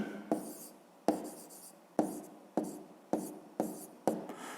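A pen writes figures on paper while a fifth-grade math exercise is worked out: about seven quick, close strokes spaced roughly evenly, each a short scratchy burst that fades before the next.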